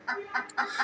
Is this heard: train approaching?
no